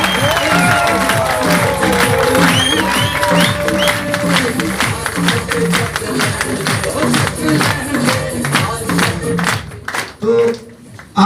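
A large seated audience at a sales promotion event breaks into loud, sustained applause and cheering, dense clapping filling the room before fading away near the end.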